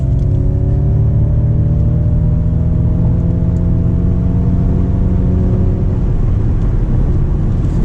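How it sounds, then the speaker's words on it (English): A Ford Mustang Mach-E GT electric car accelerates on a highway, its rising motor whine sweeping upward over heavy, loud road and wind rumble from inside the cabin. "All right, so now we'll see some acceleration."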